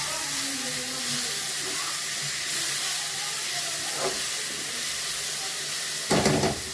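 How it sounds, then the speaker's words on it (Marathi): Dal poured into leafy greens steaming in a pan gives a steady hiss and sizzle, with a short louder burst of spattering near the end. "आता याच्यात मी डाळ टाकते"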